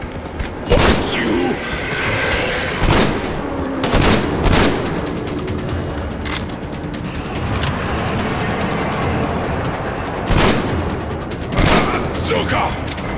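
Gunfire in the video game Metro Exodus, several sharp loud bursts of shots scattered across the stretch over a busy background of game ambience, with voices talking in between.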